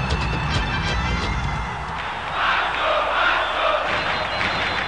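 Cruzeiro football supporters in a stadium celebrating a 3-0 lead, a massed roar of chanting and cheering that surges and holds steady at a distance.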